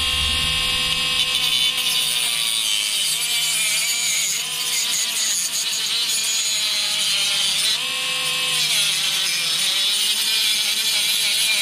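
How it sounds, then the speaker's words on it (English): Harbor Freight Dremel-style rotary tool trimming plastic PlayStation 3 controller case pieces, a steady high-pitched grinding whine with shifting pitch as the bit cuts, continuous and close for the whole stretch with no talking. "Now I'm just using my handy dandy Harbor Freight wannabe Dremel tool here to trim these pieces."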